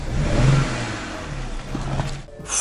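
A 500-horsepower convertible with a recurring fault revs its engine nearby, a mid-pitched rising and falling growl that holds steady, then dips briefly near the end before picking up again.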